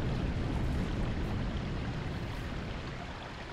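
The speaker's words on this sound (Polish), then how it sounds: "tutaj wodę było słychać" A continuous broadband rush of flowing stream water in the video game Collision Course, steady and fairly loud, fading slightly toward the end, with no voices.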